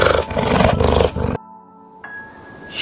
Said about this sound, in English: she lion